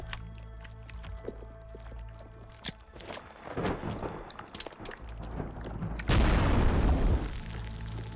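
A grenade detonates in a survival horror game with fixed camera angles, a loud sudden boom near the end that follows quieter rumbling blasts and ambient game noise.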